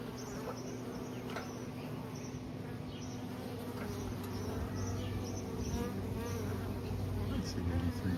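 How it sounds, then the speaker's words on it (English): A swarm of honeybees, roughly three pounds, hums in a steady, dense drone outdoors, holding at an even loudness for the whole stretch and swelling slightly near the end, with no talking. "we got a nice little swarm right here."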